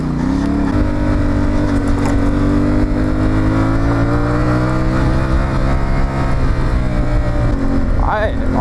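CF Moto 450MT motorcycle ridden off-road through fields in first gear, a loud steady engine drone held at high revs close to the rider, with speech over it.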